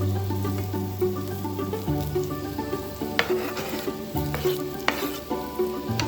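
Sliced zucchini hisses and crackles in garlic-infused olive oil in a pan, with a spatula stirring and tossing it in a steady stir-fry, louder bursts of sizzle rising as the pieces are moved.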